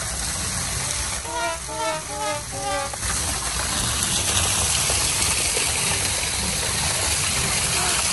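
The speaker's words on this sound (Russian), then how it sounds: "Как водичка льется." Water from a small waterfall in an amusement park rushes in a steady, close gush, with a voice briefly heard early on.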